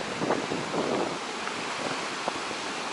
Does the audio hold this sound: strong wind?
yes